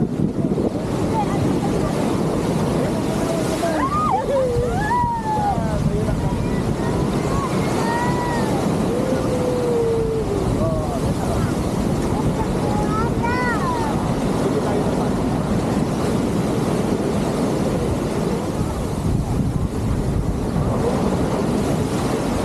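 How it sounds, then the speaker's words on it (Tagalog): Strong ocean surf breaks at a beach in Elyu (La Union), a steady loud roar with wind buffeting the microphone, while children's voices and shouts rise over the water. "Ang lakas ng alon."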